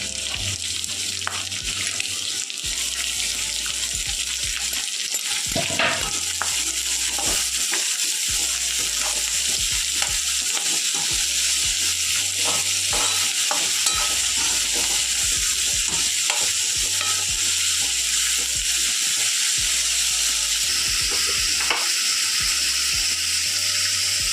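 Beans, carrots and capsicum fry in a pan for vermicelli upma, a constant bright sizzle with intermittent scraping stirs and clinks, close and steady, with no talk.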